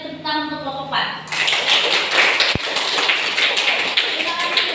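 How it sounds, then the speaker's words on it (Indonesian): A classroom of students applauds a group's presentation, a dense burst of clapping starting about a second in and continuing steadily to the end, with a voice heard briefly before it begins. "kita beri tepuk tangan untuk kelompok 4"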